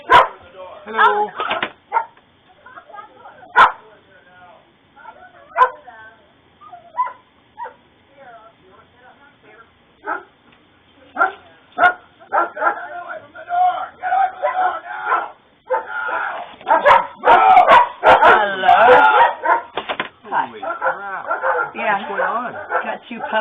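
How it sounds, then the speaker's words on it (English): Two puppies bark and whimper in short, scattered yelps at close to moderate distance, mixed with frequent overlapping human talk that grows busier toward the end. "Got two puppies in there."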